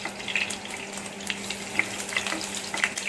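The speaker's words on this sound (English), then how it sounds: "The garlic has to get light brown before we add in our paste." Garlic fries in hot oil for a fish curry, giving a gentle steady sizzle with small crackling pops scattered through it, close and fairly quiet, with no voices.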